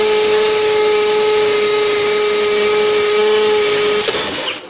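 A Milwaukee M18 hammer drill drives through a brick with a loud, steady motor whine that holds its pitch for about four seconds, then shifts abruptly and winds down as the bit breaks through.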